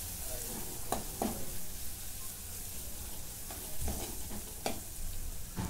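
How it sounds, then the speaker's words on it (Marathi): Ground spice masala with curry leaves sautés in a pan. A continuous low sizzle runs under periodic scraping stir strokes, close by, with no speech. "आता 2 मिनिटं परतून घेते"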